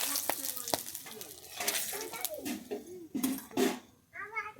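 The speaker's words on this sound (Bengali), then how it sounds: "আমি এবার দিয়ে দিচ্ছি গোটা গরম মশলা আর দিচ্ছি দুটো তেজপাতা" Whole garam masala and two bay leaves drop into hot oil in a pan, sizzling and crackling with stirring clinks, while someone talks over the frying and a voice briefly chimes in.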